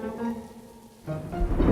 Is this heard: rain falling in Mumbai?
yes